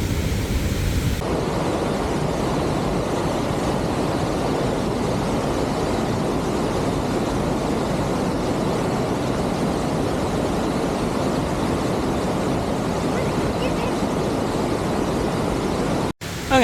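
Waterfall at Little River Falls in Little River Canyon, Alabama, a steady, dense roar of falling water that fills the whole stretch without pause, close and loud, with no voices, cutting off abruptly at the end.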